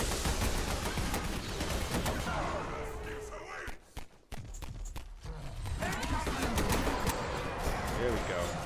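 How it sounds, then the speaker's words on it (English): Rapid bursts of flares and gunfire crackle through a chaotic Half-Life rebel battle against a boss, loud and dense, dipping briefly before the volley resumes, with a voice talking over the action. "Lot of action going, so many flares being fired."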